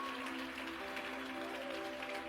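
Church congregation clapping during a sermon, a steady continuous wash of applause filling the whole stretch at moderate level, with faint sustained tones underneath.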